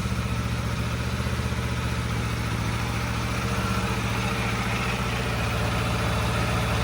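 Stock Aprilia RSV4 Factory motorcycle engine idling close by, a steady low, evenly pulsing rumble held throughout with no talk.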